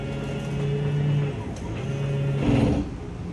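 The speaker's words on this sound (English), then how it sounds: "We'll go ahead and run the other slide room out." The slide room motor of a 2019 Forest River Salem Hemisphere GLX 286RL trailer gives a steady low mechanical whine and rumble as the room extends, rising and falling slightly in strength, close by and alone.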